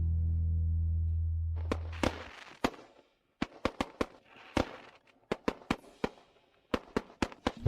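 Firework bangs and crackles burst out after a low droning hum fades, with a dozen or so sharp, loud reports spaced irregularly, some close together, ringing out with no talking.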